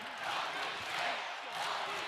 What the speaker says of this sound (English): The Beach faithful cheering their men's volleyball team on.